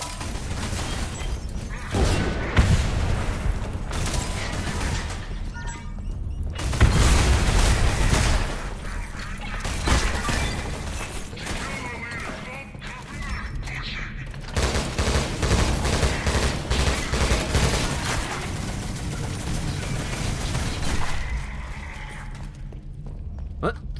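Rapid gunfire and explosions from the shooter video game Selaco, dense loud bursts of shots and booms continuing throughout with someone talking over the action.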